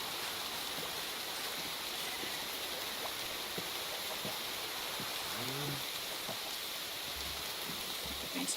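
Steady, even rain hisses through a video game scene where sheep are being herded on an island, a constant wash of falling water with no breaks and faint sounds of voice underneath.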